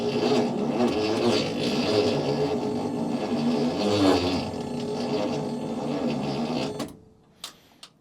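A 1972 International Cargostar truck's starter cranks the engine slowly, a loud rhythmic chugging grind that continues steadily for several seconds before cutting off, followed by a couple of faint clicks.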